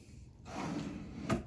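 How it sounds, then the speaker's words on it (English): A desk drawer slides in with a short scraping rush and then shuts with a crisp click, quiet and close by. "drawer works, comes out further, goes in, and then a little push, it clicks"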